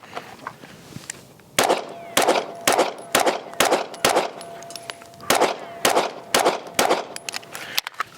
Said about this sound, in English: get our first rounds through the Springfield Echelon with the Monsoon Tactical Lucky 7s porting job